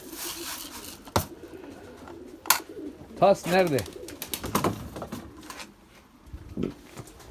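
Pigeons coo in several soft, throaty bursts near the middle, with a few sharp clicks and rustles around them, in a rainy İzmir yard where wheat is scattered for the birds; someone speaks briefly over them.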